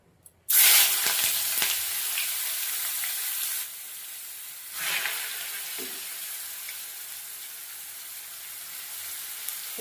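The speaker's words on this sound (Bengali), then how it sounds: "এবার এই যে সেদ্ধ করে রাখা জল ঝরানো মূলোটা এর মধ্যে দিয়ে দেবো অল্প অল্প করে" Boiled, drained radish added bit by bit into hot oil with a browned bay leaf, breaking into a loud sizzle that fades slightly and then continues steadily, with a few faint stirring clinks and no talking.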